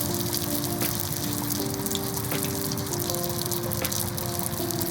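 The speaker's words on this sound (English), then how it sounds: "They fry very quickly because the wrappers are so thin." Thin-wrapped egg rolls deep fry in hot oil, making a steady, loud bubbling hiss that continues without a break, with faint tonal hums running underneath.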